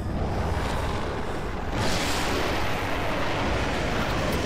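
A gunshot in The Evil Within horror game: a heavy blast bursting out mid-clip over dense, roaring noise, loud and close, no voices.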